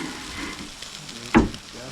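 Steaks sizzle and fry in a pan over a kerosene Primus stove, a steady close crackle with a brief louder burst of sizzling midway.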